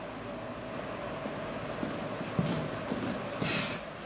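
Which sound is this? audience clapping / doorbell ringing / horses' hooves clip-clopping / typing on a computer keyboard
horses' hooves clip-clopping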